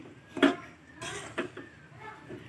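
A few scraping clanks of a spoon against a pan as ingredients are stirred, spaced irregularly and fairly quiet.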